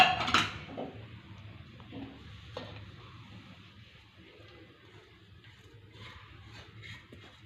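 Butter melting in a pot for ghee is stirred with a metal spoon, a few clinks and scrapes at first and then soft occasional scraping over a quiet background, faint and close.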